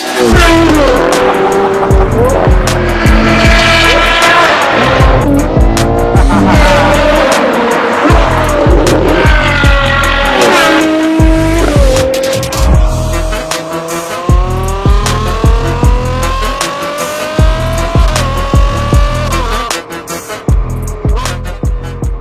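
A Ferrari Purosangue fitted with a NOVITEC exhaust system revs and accelerates hard, loud and close, its engine pitch climbing and dropping through gear changes with a raspy exhaust note, and tires squeal at times.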